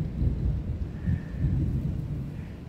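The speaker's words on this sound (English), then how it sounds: "Listen to that thunder." Thunder rumbles low and steady through a storm, a deep rolling roar that swells and ebbs for a few seconds with no voices over it.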